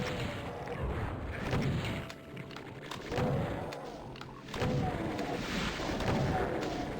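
A chaingunner keeps firing in the video game Doom, heavy booming bursts rolling in waves under a dark ambient wash, with no voices.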